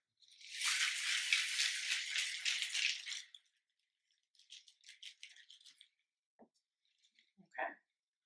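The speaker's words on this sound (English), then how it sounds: "All right, top it and shake." A Cadillac Margarita shaken hard in a cocktail shaker gives about three seconds of loud, steady ice rattle, followed by a few softer rattling bursts and a couple of brief knocks.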